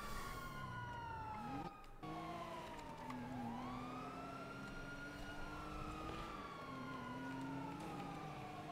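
Police sirens wailing in a video game getaway chase after a jewelry store robbery, several overlapping sweeping tones rising and falling over a rumbling engine bed, loud and continuous with a brief dropout near the start.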